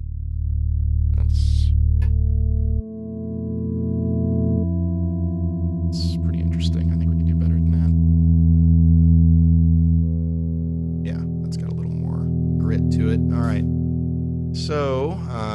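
A DUNE 2 software synth plays sustained wavetable oscillator pad tones, steady layered pitched drones that shift in pitch at a few points, with someone talking briefly in between.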